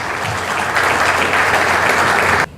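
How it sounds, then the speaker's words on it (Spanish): Loud, dense audience applause fills an evening energy forum at the Colegio de Ingenieros in Peru as an engineer is welcomed, steady throughout and cutting off abruptly near the end. "pido fuertes aplausos para el ingeniero."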